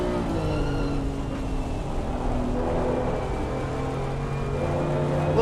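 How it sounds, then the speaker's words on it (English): A BMW race car heard from inside the cabin in the rain at Brands Hatch in a racing video game: a steady engine drone with shifting tonal whine and constant broadband road and rain noise, loud and continuous throughout. "Let's go ahead and hear what it's like inside the cabin of that BMW."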